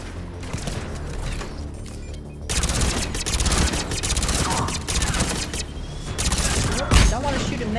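Video game gunfire bursts in loud, dense automatic volleys with heavy booming impacts, continuing in rapid runs after a quieter opening, with a voice talking over it.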